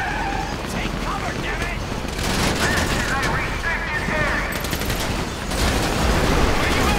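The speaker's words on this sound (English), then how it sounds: "Listen to the shooting!" Shootout gunfire from the video game GTA 5, with rapid bursts of shots and booms layered over game noise and shouted voices, dense and loud throughout.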